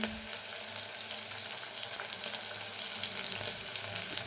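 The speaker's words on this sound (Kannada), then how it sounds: "ಈಗ ಜಿಂಜರ್ ಗಾರ್ಲಿಕ್ ಪೇಸ್ಟ್ ಹಾಕೋತಿದ್ದೀನಿ." Ginger garlic paste hits hot oil in a pan while paneer biryani is being cooked, giving a bright, steady close-up sizzle and crackle that holds throughout, alone and without voices.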